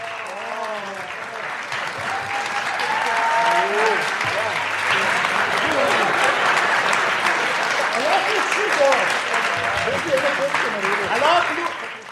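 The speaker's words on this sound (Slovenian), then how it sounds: "ploskite še enkrat" Sustained audience applause fills a hall after a live comedy show, a dense, steady clatter of many hands lasting several seconds, with a few voices talking over it.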